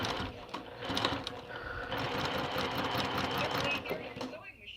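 A sewing machine runs steadily with a rapid mechanical clatter close to the microphone, pausing briefly before stopping at the end.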